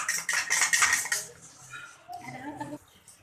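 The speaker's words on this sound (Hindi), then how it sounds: "अब हम अंडे को मिक्स कर लेंगे।" Eggs are whisked in a bowl for shami kabab, a quick burst of clinking utensil against the dish followed by softer scraping and tapping, close by and fairly quiet.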